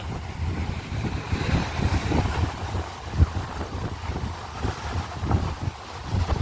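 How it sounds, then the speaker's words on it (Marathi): Strong seaside wind at Malvan on the Konkan coast roars and gusts into the microphone alongside the rumble of surf, loud and continuous with uneven swells, and nobody speaks. "काय तुफान वारा आहे. तुफान वारा, डेंजर वारा पाहिजे."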